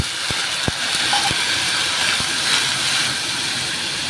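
A little water is poured into a hot pan while cooking mung dal with bottle gourd. It gives a loud, steady hissing sizzle throughout, broken by a few faint knocks near the start.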